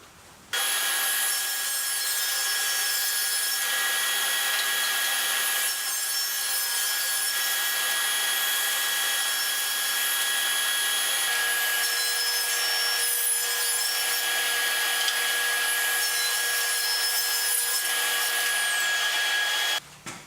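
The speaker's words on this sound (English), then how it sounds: "I'm just going to turn on the dust collection and run these boards through." Wooden boards for end grain cutting boards being ripped to width on a saw with dust collection running, a loud continuous whining drone with steady high tones lasting about twenty seconds before stopping.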